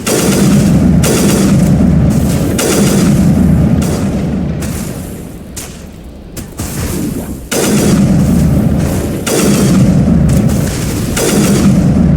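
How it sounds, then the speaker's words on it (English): Rifle fire in Mass Effect from a weapon shooting three-round bursts, loud and booming, with repeated volleys across the whole stretch and a brief lull in the middle. "a 3-shot burst on this rifle would be great, were it not for the fact that the muzzle keeps jumping"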